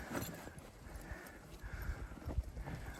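Horses with draft-horse ancestry walk along on a mountain hunting trip, hooves clip-clopping in an irregular rhythm at moderate distance, fairly faint against the outdoor background.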